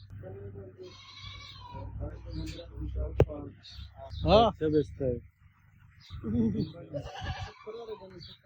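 Goats bleat repeatedly in wavering, nasal calls amid people talking nearby at a cattle and goat market in Oman, with a busy outdoor crowd feel and a sharp click partway through.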